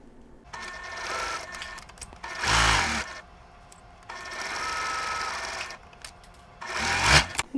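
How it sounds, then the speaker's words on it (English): A sewing machine stitching a quarter-inch seam down the center of a sawtooth star quilt block, running in several steady whirring bursts separated by pauses, close and alone with no talking. "Now we'll stitch with a quarter inch seam down the center."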